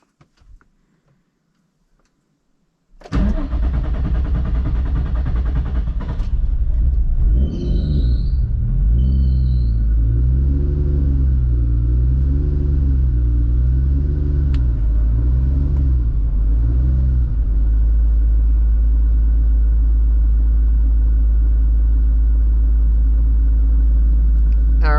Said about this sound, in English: I just cranked it for probably another second or so longer than I normally crank it